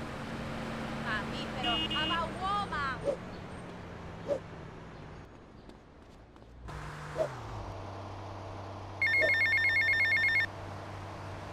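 A payphone in GTA Vice City rings in short repeated electronic trills near the end, following stretches of in-game vehicle hum and clicks, with voices talking earlier in the scene.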